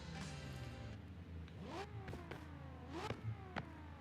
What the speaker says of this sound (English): Hopefully you can hear the car sounds okay.